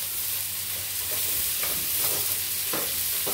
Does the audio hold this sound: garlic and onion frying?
yes